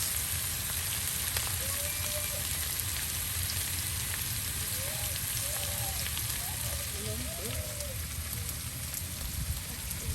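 Whole cardamom, cinnamon and cloves frying in hot oil, a steady close sizzle that runs throughout under a few brief faint voices, in a village kitchen cooking for a dried-fish and duck curry.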